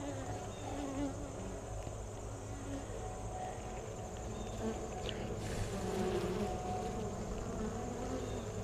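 Honey bees buzz steadily and continuously at a hive during an inspection of frames holding nectar, bee bread and capped cells, a dense close drone that swells slightly toward the end with no talking.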